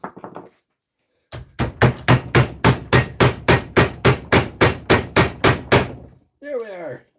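About fifteen loud, evenly spaced hammer blows strike in a steady rhythm, bracketed by brief bits of speech before and after.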